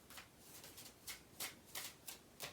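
A tarot card deck is set down and cut by hand, giving a run of short, crisp papery slaps and riffles spaced about every half second, close and quiet.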